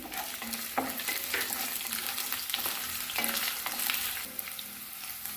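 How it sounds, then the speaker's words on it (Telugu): Ginger-garlic paste and cashews with onions frying in a pan for paneer fried rice, a continuous crackling sizzle broken by stirring scrapes, close and with no voices. "అల్లం పేస్ట్ అన్నీ వేగినాయండి"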